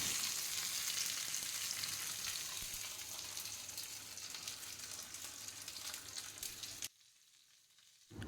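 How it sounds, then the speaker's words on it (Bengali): A pabda fish sizzles in hot oil in a pan, a loud, dense, crackling fry that holds steady for about seven seconds and then drops abruptly to near silence. "এইবার এই একখান মাছ এইটারে আমি দিয়া দিচ্ছি, এইটা ভাজা হোক"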